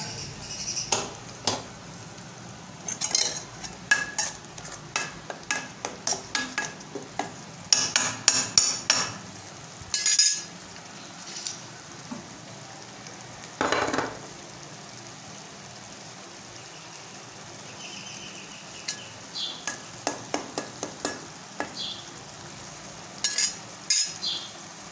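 Onion and tomato puree fries in a pan with a low sizzle beneath repeated sharp metallic taps and clanks, bursts of quick knocks alternating with quieter stretches, close and loud.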